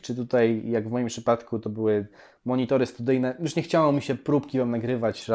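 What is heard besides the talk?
No everyday noise stands out behind the speech.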